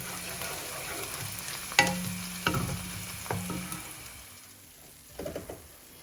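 Onions frying in a pan for a chicken madras curry, a steady close sizzle punctuated by a few sharp spoon taps and scrapes as they are stirred, fading slightly toward the end.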